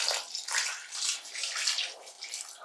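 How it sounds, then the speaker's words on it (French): Broth is poured into a pot to deglaze it, a soft, close splashing and gurgling of liquid that surges and eases in uneven waves for a few seconds. "Alors, maintenant, on va pouvoir ajouter notre bouillon."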